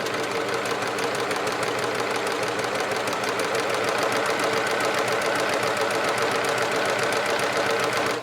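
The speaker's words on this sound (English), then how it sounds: "just run a little bit of stitching to check that" An overlocker stitches a short test line after being re-threaded with a new colour, a steady, loud, fast mechanical whir with rapid needle chatter that runs unbroken throughout, with no talking.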